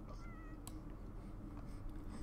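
A cat meows faintly once or twice, a short high call heard at a distance over a steady noisy background.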